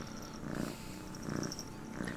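Bob the cat purrs close up, a soft rhythmic rumble in three slow breathing cycles over a faint steady background hum.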